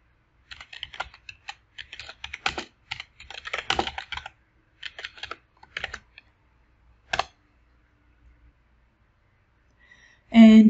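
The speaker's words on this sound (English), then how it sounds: "You can simply type in your query." Computer keyboard typing at a search bar comes as quick, close clusters of light key clicks in irregular bursts, thinning out before a brief louder sound at the end.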